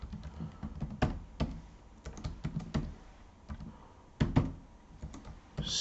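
Someone types a name into stock-market scanner software on a computer keyboard, producing a steady, close patter of key clicks with a few heavier strokes, no talking.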